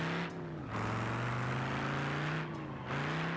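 An old American V8 car engine in BeamNG.drive holds a steady, loud, throaty drone, its pitch sagging and rising as the throttle is worked, with brief dips in the middle and near the end.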